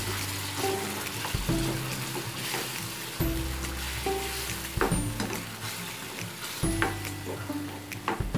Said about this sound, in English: Then we'll just let it simmer